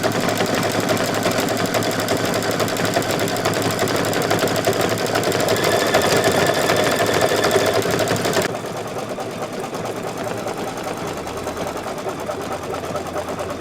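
An embroidery machine hammers out dense white satin stitching on thick material, a loud, fast, steady mechanical rattle that continues unbroken and drops slightly in level partway through.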